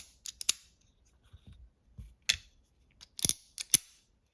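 A Demko AD20 titanium folding knife clicking open and shut, heard as a few sharp, close metallic clicks and snaps in small clusters with quiet gaps between.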